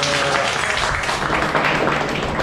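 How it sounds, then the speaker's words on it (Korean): Audience applause at a parish centennial gathering with a priest, a steady dense wash of clapping that holds at an even level throughout without breaks. "마치와 부회장님께서 박수 한번 보내주세요"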